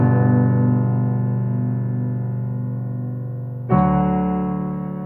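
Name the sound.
piano chord progression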